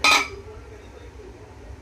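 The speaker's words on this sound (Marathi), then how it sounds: "कुकरचं आता आपण झाकण लावतोय" A metal pressure cooker lid is set on the pot while cooking yakhni pulao, one bright close clink at the start that fades into a low background hum.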